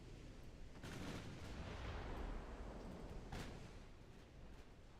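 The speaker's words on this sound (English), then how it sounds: "We just took a torpedo?" A torpedo strikes a warship in the naval battle game Ultimate Admiral Dreadnoughts, giving dense, rumbling explosive booms and a continuous roar of impacts, with a sharper burst near the middle.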